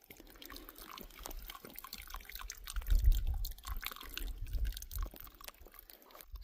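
Water trickles and drips quietly while water bottles are filled at a source on the Continental Divide Trail, with a soft uneven flow that swells briefly in the middle before easing off.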